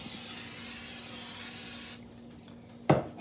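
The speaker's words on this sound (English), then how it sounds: "And what you want to do is just spray it on." A cooking oil spray hisses steadily for about two seconds onto a pan for a breakfast sandwich, then stops, followed by a brief clatter nearby.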